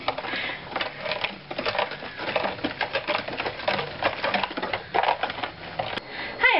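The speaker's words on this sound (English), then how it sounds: "we're just going to add the beaten egg with a little bit of milk in there. So beat all that up, Isabella." Egg and milk being beaten in a bowl for pumpkin chocolate chip cookie dough: rapid, uneven clattering and tapping strokes close up, continuing steadily throughout.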